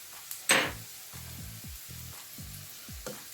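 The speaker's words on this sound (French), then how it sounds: "Mes oignons ont bien roussi." Browned onions frying in a pan give a short, close sizzle with a sudden hiss at first, then a series of light scraping strokes.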